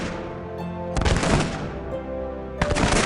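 A musket volley sound effect played during a tabletop wargame, with bursts of rapid crackling gunfire that start and stop abruptly, loud and near, over a faint background, no talk.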